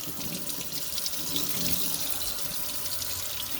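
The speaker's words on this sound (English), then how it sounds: "We're going to turn the water on." Tap water running steadily into a sink, pouring over the back of a glass cutting board, a continuous close splashing rush with no talk.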